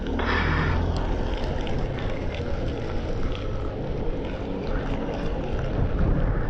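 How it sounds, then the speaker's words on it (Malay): A SYM Cruisym 400 scooter rides through rain and standing water, a steady loud broadband rush of spray and wind noise mixed with a low engine drone throughout, with no talk. "Oh, tengok dia langgar air."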